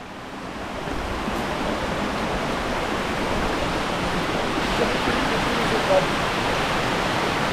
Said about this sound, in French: on va remonter la cascade